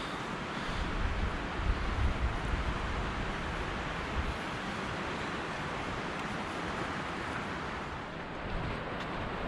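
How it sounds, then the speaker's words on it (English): Steady wind buffets the microphone on a breezy mountain hiking trail near Idyllwild, California, a continuous loud rushing roar with gusty swells and no voices. "it's definitely a lot breezier up here, a lot windier."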